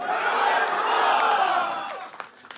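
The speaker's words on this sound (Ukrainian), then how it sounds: "Ми аплодуємо всім захисникам вітчизни" A packed club crowd at a Kyiv rock concert cheers, whoops and claps loudly for the country's defenders, a sustained roar of voices that swells and then tapers off near the end.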